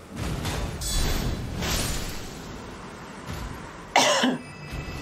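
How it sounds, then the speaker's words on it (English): A single person coughs up close, one sharp burst near the end, set against background sound from the video game Elden Ring: Shadow of the Erdtree. "I'm gonna cough."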